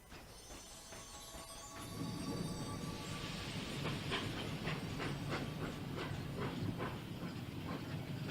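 A train in the Dragon Quest X role-playing game rumbles steadily along with a broad hiss and a regular clatter of wheels that builds after a couple of seconds and carries on loudly without any voices.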